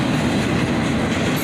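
A monster-long freight train hauled by CSX and Union Pacific locomotives passes close by, a loud, continuous heavy rumble of rolling wagons with faint clattering wheels and no voices.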